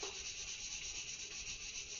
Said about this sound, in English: here I got 220 grit sandpaper. Just gonna use a little bit of this to go back over this thing again